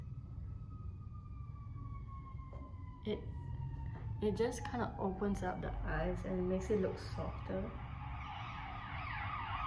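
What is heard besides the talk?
police car siren passing outside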